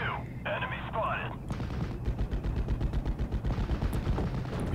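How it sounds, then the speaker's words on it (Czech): Gunfire in the WWII strategy game Steel Division: Normandy 44: a steady rattle of rapid automatic shots at moderate distance, following a brief burst of game interface sounds. "Tady se někde střílí."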